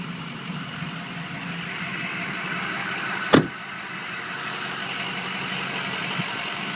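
A 6.0 diesel engine with about 200,000 miles and an aftermarket exhaust tip idles at a low, steady rumble, fairly quiet, with one sharp knock or thump cutting through about halfway.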